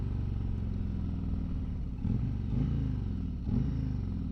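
A deep, steady Harley-Davidson Road King engine rumble while riding, with a couple of brief throttle swells, close and continuous with no talking.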